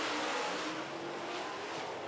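Late model race cars roar around a speedway during a heat race, a loud continuous blended engine drone that swells slightly as the pack comes off the turn, with no talk over it.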